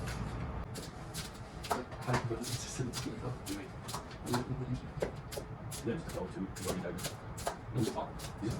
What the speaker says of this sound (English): got your lettuce diced up pretty nicely